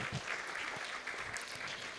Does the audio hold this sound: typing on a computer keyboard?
no